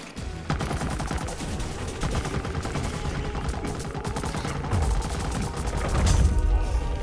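Rapid video-game gunfire from Plants vs. Zombies Garden Warfare 2, dense continuous bursts of shots with booms and crashes building toward the end, loud and close, with no speech.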